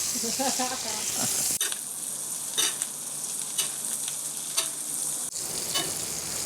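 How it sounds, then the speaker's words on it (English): A steak sizzles in a metal pan with thyme and rosemary, a constant loud frying hiss punctuated by several sharp scrapes and clinks of a metal spoon against the pan. "This pan is metal utensil safe before anyone says, "Hey, is it a spoon in a pan?""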